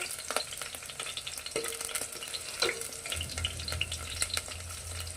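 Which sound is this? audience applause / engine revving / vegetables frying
vegetables frying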